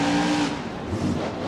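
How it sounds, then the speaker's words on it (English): A monster truck engine revs in the BeamNG racing game during a Monster Jam freestyle event in Tampa, Florida, a steady loud drone with slight rises in pitch, heard alone and close. "So here goes the race monster truck, ready to throw it down."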